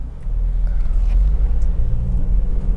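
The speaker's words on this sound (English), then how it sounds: "engine is typical of the breed, very keen to rev, very sweet, refined in operation" Honda CR-V 2.0 i-VTEC petrol engine with a cam chain, running with a smooth, loud low rumble that holds steady throughout, no speech over it.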